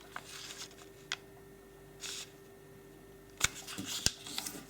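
Origami paper for a sheep model is folded edge to edge, with soft crinkles and several sharp close crackles and snaps from the paper being handled and creased.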